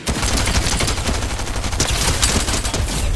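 Rapid, dense gunfire from blank bullets in a video game, a continuous loud fusillade of overlapping shots with no pauses.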